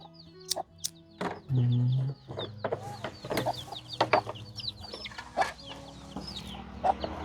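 Chickens cluck in short bursts at close range while eating, with scattered sharp clicks and pecking noises alongside a brief low hum.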